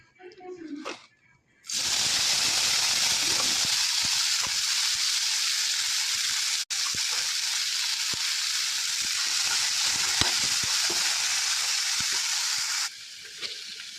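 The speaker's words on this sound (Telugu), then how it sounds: "చింత చిగురు వేగిపోయిందండి" Tender tamarind leaves sizzle in a hot pan with a steady, loud hissing fry that holds for about eleven seconds after a brief quiet start, broken by one short gap, then drops away near the end.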